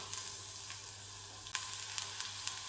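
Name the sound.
garlic sizzling in hot mustard oil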